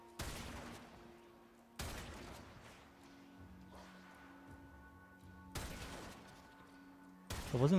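Gunfire in the Warframe video game comes as three sharp heavy bursts spaced a couple of seconds apart, each decaying into a low rumble, with a fourth starting at the end over a faint background drone.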